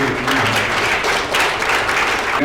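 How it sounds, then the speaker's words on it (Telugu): An audience at a medical college homecoming reunion for a 2004 batch breaks into loud, sustained applause, many hands clapping densely together for a couple of seconds. "కమిటీ మెంబర్స్ అందరికీ ఒకసారి క్లాప్స్ కొడితే"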